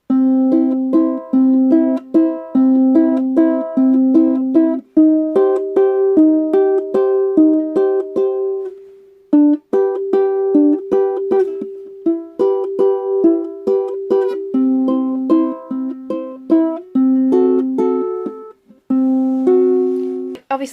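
Ukulele strumming the chorus chord progression of a song, steady plucked and strummed chords with a short break near the middle and another near the end, played alone with no talking.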